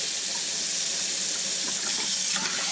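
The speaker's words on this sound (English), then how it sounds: "I'm going to run some really cold water here." Cold water pours steadily from a kitchen tap into a sink, a loud, continuous hissing splash that stays close and unbroken from start to finish, with no talking.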